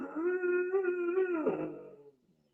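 A dog howls in a long, wavering, whiny tone that breaks into whimpering and fades out, close and clear at a small dog sitting nearby.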